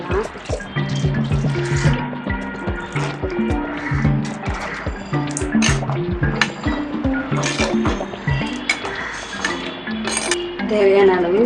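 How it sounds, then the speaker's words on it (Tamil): Water is poured into a pan of simmering tamarind gravy for ladies finger kara kulambu, a steady splashing pour with light clinks of a utensil against the pan, close and continuous. "இப்போ நம்ம தண்ணி சேர்த்துக்கலாம்."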